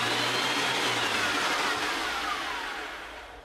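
A wood planer fitted with a helical cutter head runs freely with no board being fed, a loud, close, steady whirring that begins to wind down near the end.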